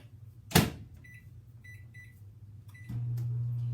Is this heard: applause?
no